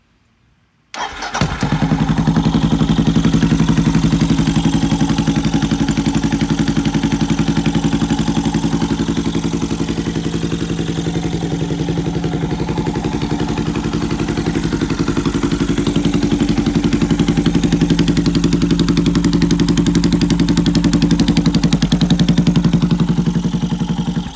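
A Parr retro-scrambler motorcycle engine starts after a moment of silence and then runs at a loud, steady idle for over twenty seconds, close up and alone.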